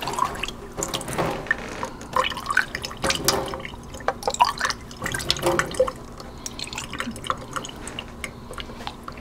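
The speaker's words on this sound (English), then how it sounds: "I would rinse it out with this. This is filtered water" Filtered water from a new filter insert splashing and dripping while a test tube is rinsed, irregular close trickles and drips with bursts of running water, no talking.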